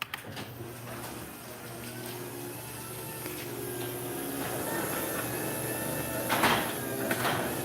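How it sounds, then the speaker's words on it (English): A large sliding door rolls along its track on roller hardware, making a steady rumbling scrape that carries on for several seconds with a few brighter clanks near the end. "Alright, I'll do the big door now."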